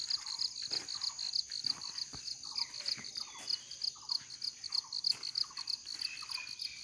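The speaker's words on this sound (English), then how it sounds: "Now you can see the sound of the insects." Crickets and other insects chirp at night in a forest in rapid, pulsing trills over a constant high buzz, faint and distant, with no talking.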